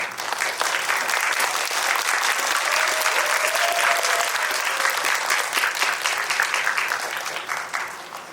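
Sustained audience applause welcoming two guests onstage at a film talk event, a dense steady clapping from a large crowd that holds for several seconds and then tapers, with a faint voice briefly over it.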